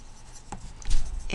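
A pen or marker scratches briefly while equations are written out, close and quiet, with a couple of short strokes and a soft tap near the end.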